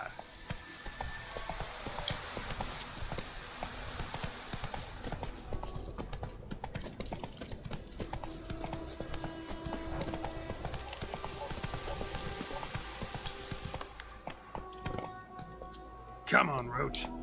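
Roach, the horse in The Witcher 3, gallops with steady rhythmic hoofbeats through the woods, joined by game music and occasional voices talking over the clip-clop throughout.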